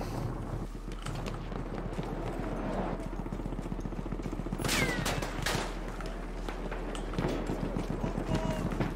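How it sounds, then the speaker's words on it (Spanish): Rapid bursts of gunfire in a desert battle in Battlefield 1 crackle in quick succession, with a few louder volleys standing out over a busy background. "¿Qué disparos fueron esos?"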